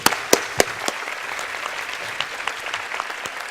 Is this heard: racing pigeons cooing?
no